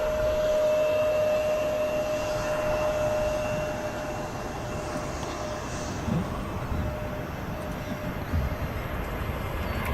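At Manchester Airport, a Ryanair aircraft rolling produces a continuous broad jet roar with a faint steady whine, holding an even level throughout and heard at a distance, with no talking.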